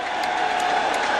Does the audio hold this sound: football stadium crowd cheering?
yes